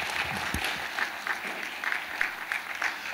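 Church congregation clapping in thanks for Pastor Tim after a bilingual Korean-English service, a steady patter of hands from a moderate crowd at some distance, with brief louder bursts.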